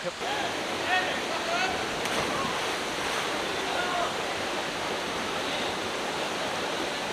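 Water pouring and splashing at Chouwen Lake, a steady broadband rush that holds evenly throughout, with faint voices and brief chirpy sounds briefly audible in the background.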